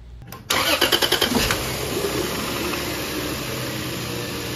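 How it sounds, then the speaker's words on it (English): A Lexus GS 300 engine cranks with a rapid rhythmic churn for about a second, catches, then settles into a steady, loud idle recorded up close. "Now we can go ahead and start the car up in order to circulate the new fluid through the system."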